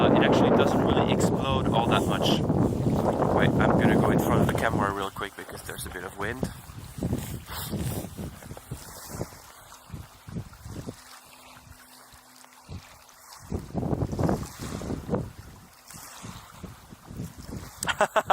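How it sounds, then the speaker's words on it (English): Wind buffets a camera microphone outdoors in Norway at night, a heavy low roar for the first few seconds, then lighter gusts rumbling under someone talking. "I'm gonna go in front of the camera real quick because there's a bit of wind"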